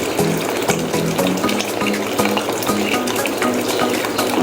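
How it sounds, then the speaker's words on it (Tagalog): Water pours steadily into a cooking pot for mushroom soup, a close, continuous splashing fill with a gurgle rising in pitch as the level climbs. "Mag-add ka ng water na 1 liter lang siya, ha?"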